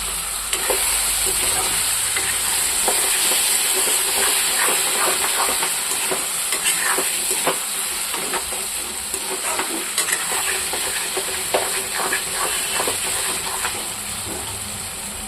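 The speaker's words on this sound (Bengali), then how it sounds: "এটা তো ভাজা করব।" Food sizzles steadily in a hot pan after potatoes have been boiled, a continuous loud frying hiss with scattered crackles and pops running through the whole stretch, no voices.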